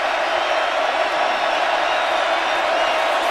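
A college football stadium crowd at a Texas home game roars in a loud, steady wash of cheering, with a broad sustained noise filling the whole moment.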